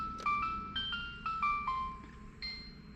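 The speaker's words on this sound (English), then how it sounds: "that noise is coming from my dash cam" A car dash cam chiming inside a Fiat Punto Evo 2010: a series of thin, bright electronic tones in short stepped phrases, fairly quiet over a low hum.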